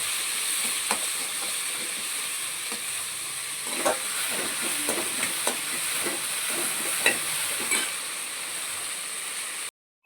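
Okra and chopped tomatoes sautéing in a home kitchen pan for tamarind curry, a steady sizzle with scattered crackles and stirring scrapes, close and moderately loud, then cutting off abruptly at the end.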